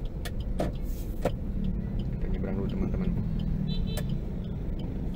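Steady traffic-jam rumble with cars idling and passing nearby, heard from inside a 2017 Suzuki Ertiga Dreza, under a voice speaking throughout.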